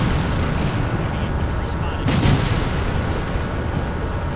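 Distant artillery fire rumbles in the Combat Mission Black Sea tank battle, a low continuous roar with one sharper burst of impact midway, heard under faint voice traces.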